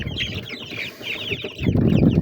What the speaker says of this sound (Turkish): sen çok güzel bir tavuksun